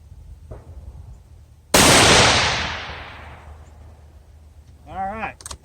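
Savage Axis .223 heavy-barrel rifle firing a single loud, sharp shot outdoors at a range, its report decaying over about a second; a faint click comes before it and a brief voice follows.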